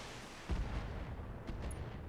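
Mech weapons fire in the Battletech video game, with two sharp booming bursts about a second apart over a low, rumbling battle background; no voices.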